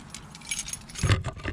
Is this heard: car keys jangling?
yes